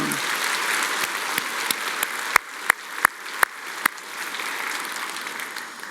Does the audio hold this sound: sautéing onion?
no